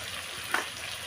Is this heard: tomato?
yes